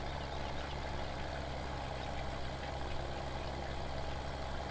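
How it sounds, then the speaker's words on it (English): An old Ford tractor engine runs in the farming game Farming Simulator 17, a steady, fairly loud low drone that holds an even idle-like rumble throughout with no talking. "this old Ford tractor is doing a great job"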